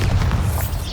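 Bombarda spell in Hogwarts Legacy, a short, loud, low booming blast that fills the whole moment.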